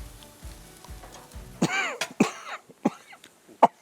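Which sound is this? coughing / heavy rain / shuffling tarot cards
coughing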